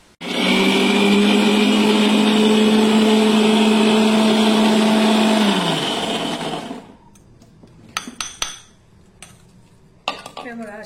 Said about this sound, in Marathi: सर्व साहित्य घालून मिक्सरवर बारीक वाटून घेऊया